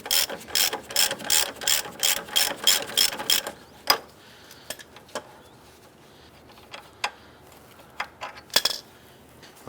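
A hand ratchet clicks rapidly and loudly as it backs a ball joint nut off the upper control arm of a 2002-2007 Jeep Liberty. A quick run of sharp clicks is followed by scattered faint metallic taps and clunks.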